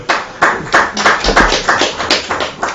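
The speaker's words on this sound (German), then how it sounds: "Jetzt war ein Applaus für Abraham" Audience clapping at a lightning talks event, a steady run of sharp, fairly close hand claps with no voices over it.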